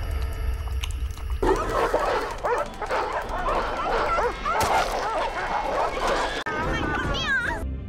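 Hungry dogs in a film scene bark, yip and whimper in a busy, overlapping pack, the noise continuing through most of the stretch under a constant background.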